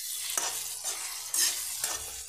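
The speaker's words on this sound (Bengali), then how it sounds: "এইভাবে ঢেকে ঢেকে ভেজে নিলাম" Chicken liver frying in a covered pan on low flame, a steady bright sizzle with three scraping stirs spaced about a second apart, close and fairly loud, no talking.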